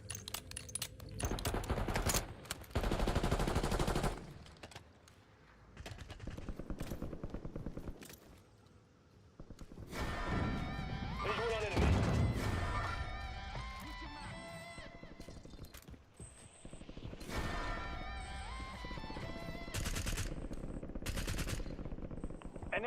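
Gunfire rattles through a Call of Duty Warzone Resurgence match in repeated automatic bursts and single shots, some close and loud, others farther off, with game voice lines and other effects mixed in throughout.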